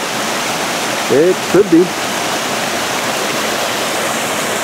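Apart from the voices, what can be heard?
waterfall in Japanese mountains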